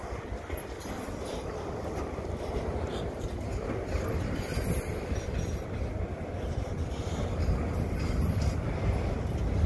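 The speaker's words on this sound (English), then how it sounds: "long, slow CP train is still coming in" A long, slow CP freight train carrying stacked containers rolls past Dorval station in winter, making a continuous heavy rumble and clatter of wheels that builds gradually and stays loud and close.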